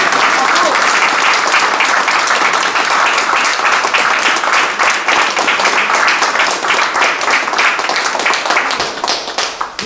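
A live audience applauds steadily for about ten seconds, dense, loud, close clapping from many hands that thins slightly at the end.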